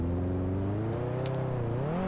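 Charmand 1104B rally hot hatch driven up a road in BeamNG, its engine revving steadily with a rising and falling drone, loud and close throughout, with no talking.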